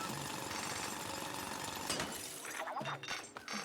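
A drill weapon in Palworld grinding continuously with a harsh, rattling hammer-like texture, loud and dense, breaking into crunching, shattering impacts near the end.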